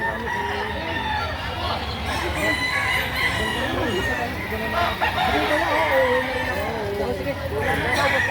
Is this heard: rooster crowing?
yes